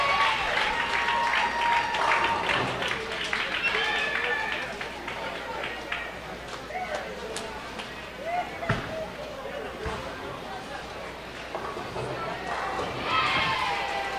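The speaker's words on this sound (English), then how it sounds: "Now I heard some cheering off to the left" Crowd cheering and clapping at a women's team bowling championship, a busy, steady roar of applause and shouts throughout with voices talking nearby and occasional sharp bangs.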